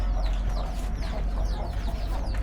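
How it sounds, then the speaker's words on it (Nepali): A large rooster clucks among chickens at a chicken shop, repeated clucks close by over a dense bed of fowl chatter and low background rumble. "यो चाहिँ यहाँको सबभन्दा ठुलो भाले"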